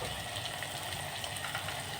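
Ground spices (turmeric, chilli powder, coriander and cumin powder) frying in a pan, a dense continuous hiss and crackle held at a steady level throughout.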